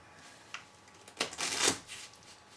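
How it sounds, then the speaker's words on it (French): A standard deck of playing cards is shuffled by hand close by, giving one short, crisp riffle burst after a faint tap, with no voices. "Et on va utiliser un jeu normal avec toutes les cartes différentes que je vais mélanger."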